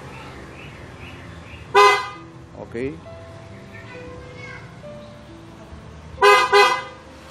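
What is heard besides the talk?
car horn chirp as the anti-theft system auto-locks the car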